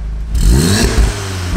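A Volkswagen Golf R with its original factory exhaust revs up, the engine note swelling and rising in pitch before easing back, loud and close with no talking.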